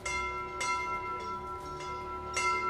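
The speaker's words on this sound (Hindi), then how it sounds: "हाँ, घंटियां बज रही है।" Bells ring steadily throughout, with sustained tonal ringing and repeated strikes roughly every second or so, heard alone at moderate loudness without any talk.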